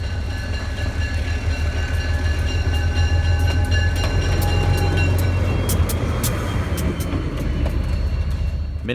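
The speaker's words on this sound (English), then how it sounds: "Minutes later, K-37 number 493 rolls by with a 15-car consist." A loud, continuous rumble of a K-37 steam locomotive passing with a 15-car train, clanking wheels and faint whistle-like tones, close and unbroken throughout.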